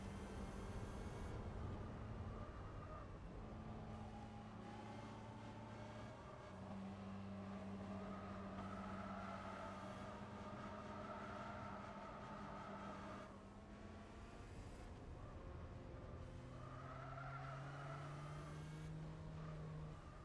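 A V10 turbo race car engine in Gran Turismo 4 drones steadily and loudly for the whole stretch, its pitch climbing and shifting through gears with a brief tire squeal, no voices.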